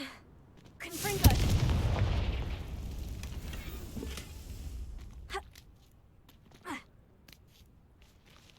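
A Confringo fire spell bursts in Hogwarts Legacy with a loud, booming blast that rolls on for a few seconds and then fades, followed by a couple of smaller distant pops.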